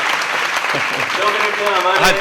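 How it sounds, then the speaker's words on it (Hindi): Audience clapping rises during a gathering of students with a swami, continuous hand claps heard along with a voice and some tonal chanting-like sound over the top. "मैं आपके लिए ताली बजाऊंगा"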